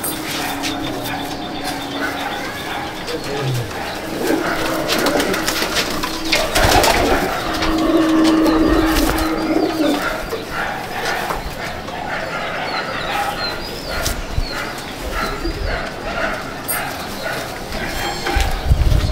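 Pigeons cooing in a loft at Icchapur, North 24 Parganas, a continuous close murmur of coos with a dog barking at times and faint voices in the background.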